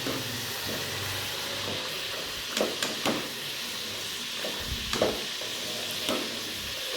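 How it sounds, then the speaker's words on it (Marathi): French fries deep-frying in hot oil at home, a steady hissing bubble with a few louder clatters and bumps as the fries are moved around. "हे बघा आता फ्रेंच फ्राईज बनवत आहे"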